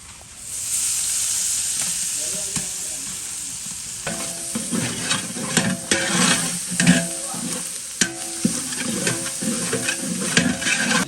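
Golden fried onions sizzle loudly in a pan for biryani as ginger-garlic paste is added and stirred in, with steady frying hiss joined by scraping stir strokes and intermittent clattering.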